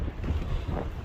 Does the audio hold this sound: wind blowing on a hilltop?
yes